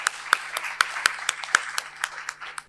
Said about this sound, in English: May I request a warm and a heartful round of applause for her.